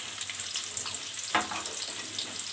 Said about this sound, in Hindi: ऑयल जो है वो गरम हो चुका है, तो इसमें मैं अनियन ऐड कर देती हूँ और अनियन को करेंगे सौते।